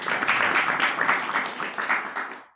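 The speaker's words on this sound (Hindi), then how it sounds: "ताली बजाओ सब इनके लिए।" Audience at a Srimad Bhagwatam talk bursts into applause, a dense, loud wash of many hands clapping together that holds steady for about two seconds and then quickly fades out.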